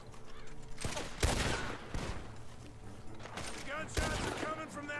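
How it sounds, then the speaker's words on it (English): Bursts of gunfire ring out from a barn in Red Dead Redemption 2, with several sharp shots spaced a second or two apart over game sounds while someone talks. "Gunshots are coming from that barn."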